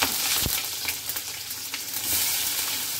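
Green chilies, mustard seeds and cumin sizzle steadily in hot oil, a dense close crackle with a few sharper pops, no voices.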